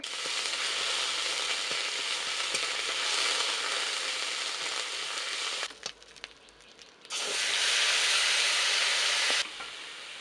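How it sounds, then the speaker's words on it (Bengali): Spice paste of white sesame, cashew nuts, melon seeds and poppy seeds frying in a pan for a village-style vegetarian fig curry, a loud steady sizzle that drops briefly mid-clip then returns at full strength. "মশলাটা ভালো করে কষে নিয়েছি।"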